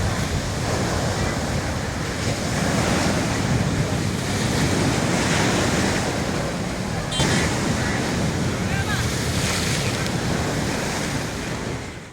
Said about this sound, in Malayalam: ചില പ്രദേശങ്ങളിൽ ടെട്രോപാഡുകൾക്ക് മുകളിലൂടെയാണ് തിരമാല ആഞ്ഞടിക്കുന്നത്